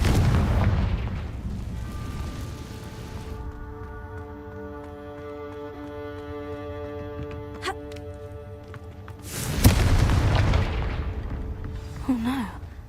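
A Confringo fire spell explodes in Hogwarts Legacy, a loud broadband blast followed by a sustained tonal ringing hum, then a second heavy burst near the end with a brief voice-like squeal.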